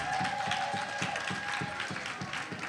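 Rhythmic clapping at a women's conference session, steady beats about twice a second over a continuous hum and a sustained tone, fairly loud and close with no talking.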